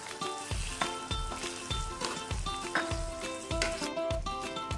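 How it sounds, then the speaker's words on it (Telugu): Cabbage egg fry being stirred lightly in a pan, with a steady sizzle and a regular rhythm of spatula scrapes and taps against the metal, about one stroke every half second, close and clear with no talking. "మరీ చితికిపోకుండా కొంచెం లైట్గా కలుపుదామండి"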